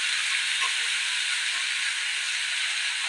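Chopped onions, with garlic, frying hard in hot oil in a pan for tempering, a loud continuous sizzling hiss that stays even and close throughout, with no speech.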